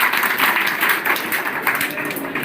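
A crowd at a lucky draw prize event claps for a winner, producing loud, dense applause close by that continues steadily throughout.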